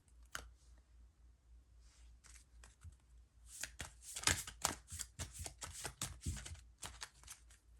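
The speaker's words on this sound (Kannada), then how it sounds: "ಒಂದು ಕಾರ್ಡ್ ತೆಗಿತಾ ಇದ್ದೀನಿ." Tarot cards are handled and drawn from a deck at close range, giving a series of quick, crisp shuffling and flicking sounds that come in irregular clusters.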